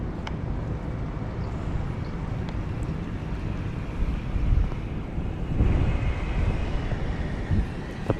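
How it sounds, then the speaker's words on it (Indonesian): Water flows in a water feature inside Lalaport mall in Bukit Bintang, Malaysia, making a continuous close rushing wash with gusty wind buffeting the microphone. "Airnya mengalir, spoi-spoi, bagus."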